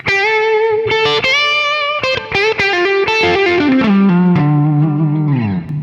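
A distorted electric guitar plays licks. Loud sustained bends and quick picked notes move in a phrase that slides down at the end, with a light chorus-like shimmer.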